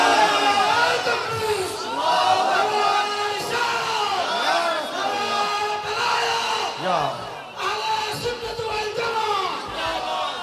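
A large crowd at a religious gathering chants a takbir response in loud, rhythmic unison, repeated bellowed phrases rising and falling for several seconds with a strong echoing hall sound.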